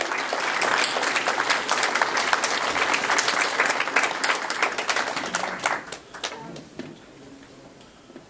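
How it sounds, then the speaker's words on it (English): An audience at a jazz trio concert claps in dense, sustained applause that thins out and fades over the last couple of seconds. "So I'd just like to give you a round of applause"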